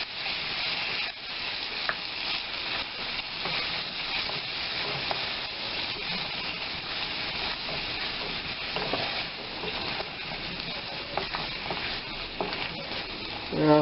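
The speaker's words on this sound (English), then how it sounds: "we're going to add another 2 tablespoons of butter. Spread that around so the butter has a chance to melt." Butter melting and sizzling with carrots in a pan while being stirred, a steady close frying hiss running throughout, with scraping stir sounds and a few louder crackles near the end.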